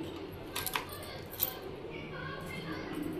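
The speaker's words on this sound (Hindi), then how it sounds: "अब इसमें ये पायल डाल दो।" Anklets dropped into a pot of water set on a gas stove, giving a few quick metallic clinks and splashes over a steady low hum.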